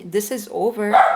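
A dog barks and yips repeatedly in short bursts under close talk, with a few sharp barks overlapping the speaking voice indoors.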